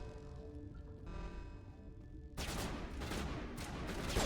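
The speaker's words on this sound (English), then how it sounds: "Why are you guys shooting at me?" Gunfire in the Mass Effect video game begins partway through, a harsh, dense volley of shots following quieter game ambience, growing louder toward the end.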